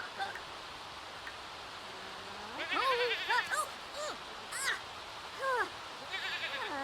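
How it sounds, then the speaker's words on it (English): A goat in The Sims 4 video game, in a Stone Age historical challenge, lets out several short wavering bleats in quick succession over a quiet ambient background, fairly close and clear. "Okay, now she can milk the goat"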